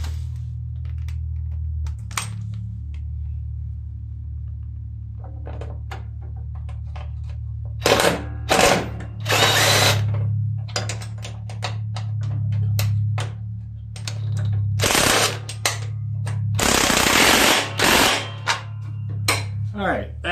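A socket tool clicks and clanks on a bolt of a Craftsman riding lawn mower during drive belt work, irregular metallic taps and ratcheting bursts over a low steady hum, with a person talking at times.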